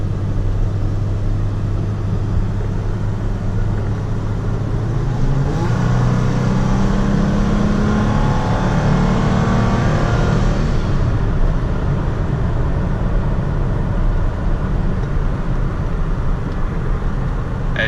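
Toyota Tacoma TRD pickup with 71K miles driving along a road, its mid-pitched engine and tyre roar steady throughout, with a brief swell of acceleration partway through and a firm bump over a bridge.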